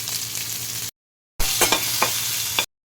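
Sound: onion frying in oil in a wok

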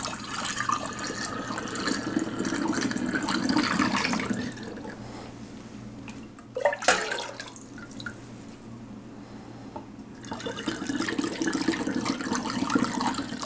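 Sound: raw ginger ale poured through a funnel into bottles

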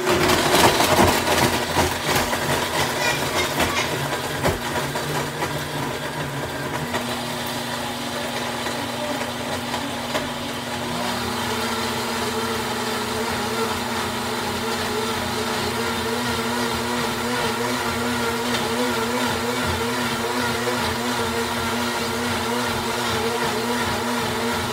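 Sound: blender running

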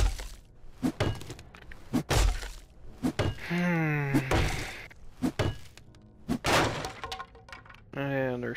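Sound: breaking through a wall in the video game 7 Days to Die

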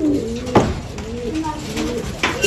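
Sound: pigeons cooing in a loft

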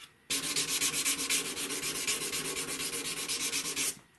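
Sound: sanding German silver with 320 grit sandpaper

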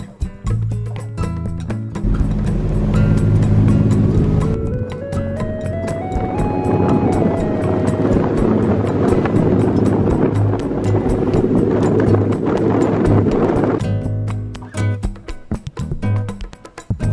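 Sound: boat ride to Koh Rong island, Cambodia

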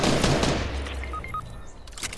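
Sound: gunfire in the video game Fortnite

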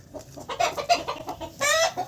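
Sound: hens clucking on a poultry farm

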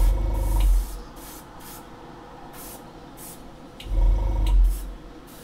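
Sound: airbrush spraying paint

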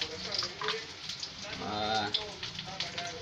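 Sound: eggplant frying in a pan

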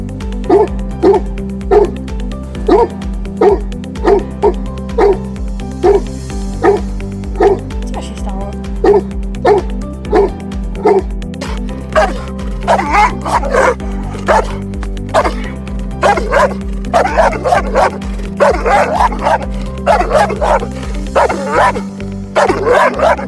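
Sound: Tosa Inu dog barking loudly

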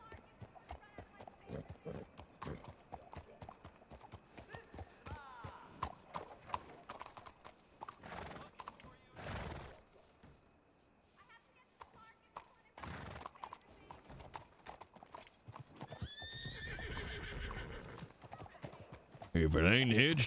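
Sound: horses neighing and hooves in video game

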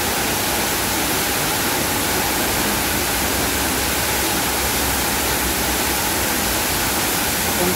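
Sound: waterfall flowing in a cave

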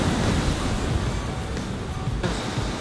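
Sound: ocean waves on the beach at Pacifica

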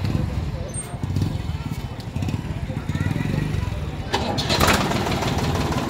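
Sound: 2008 SAME 393 tractor engine starting and idling

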